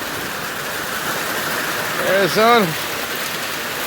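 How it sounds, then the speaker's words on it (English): Rain falls in a steady even wash of noise while a voice speaks briefly over it. "getting some rain."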